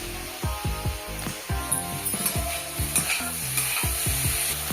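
Eggplant fries in a pan with salt, turmeric and chili powder, a steady bright sizzle under repeated clattering scrapes and knocks of a spatula stirring at close range, with a low rhythmic thumping running throughout.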